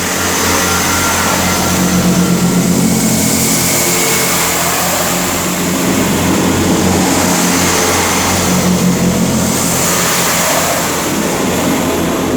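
Transport for Wales diesel trains, a class 158 and a class 833 unit, running past on a main line, giving a loud, steady engine drone and rumble throughout with swelling peaks.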